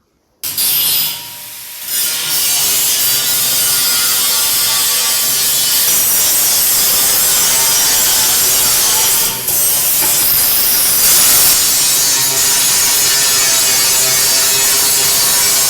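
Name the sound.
grinding steel for sheep feeder trough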